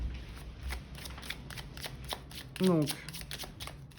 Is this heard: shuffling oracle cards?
yes